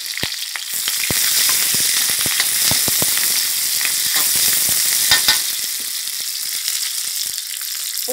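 Garlic, shallots and young chilies fry loudly in hot oil in a pan for a stir-fry with fried snakehead fish, giving a steady close sizzle with scattered crackles and stirring clicks, no talk.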